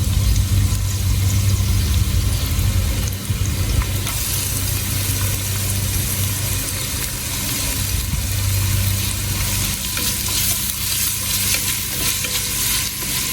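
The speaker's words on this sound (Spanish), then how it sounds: "Now we're gonna add the onions." Chopped onions being stirred into a pan of frying chiles, a loud, steady sizzle with a low rumbling hum and scraping stirs, dense and continuous throughout.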